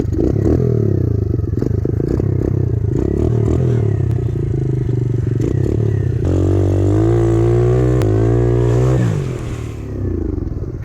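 Apollo 125 pit bike engine revving hard while stuck in deep mud, a loud continuous roar with rising and falling pitch and scraping clatter, easing off near the end.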